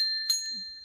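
A temple bell sounds with a single clear, bright ring that lingers steadily, close and alone, with only faint background noise beneath it.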